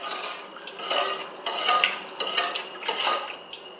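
Pulao with turmeric stirred in a pot, a spoon scraping and knocking against the metal in uneven strokes, several sweeps over a few seconds; close and clear, with no talking.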